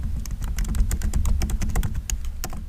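Rapid, steady clatter of fingers typing on a computer keyboard, close and clear, keys struck in quick uneven bursts with no voices.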